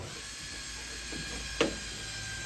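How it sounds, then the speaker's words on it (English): A single sharp mechanical click from a Citroën 2CV's window latching into place, brief and close against a faint steady hum. "the window goes up and clicks here into place"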